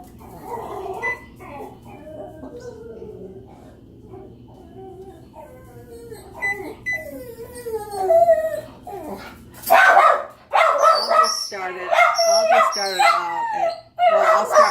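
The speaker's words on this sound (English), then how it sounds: "my dog's barking" A dog howls and whimpers at first, then breaks into a run of sharp, close barks and yips; a voice speaks faintly beneath.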